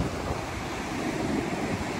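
Waves and wind at Praia do Rosa beach in Santa Catarina, Brazil: a steady broadband wash of surf with wind rumbling on the microphone, continuous and fairly loud, no voices.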